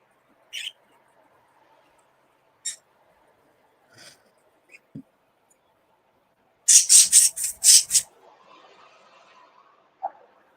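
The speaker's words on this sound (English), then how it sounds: "the birds are noisy today." Birds calling outdoors in short, scattered chirps spread across several seconds, with a brief burst of rapid, louder chirping midway and a faint single call near the end, otherwise quiet.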